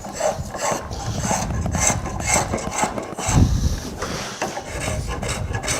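A spokeshave pulls across a wooden workpiece with wavy, curly-figured grain, making a steady, close, raspy shaving sound in continuous strokes.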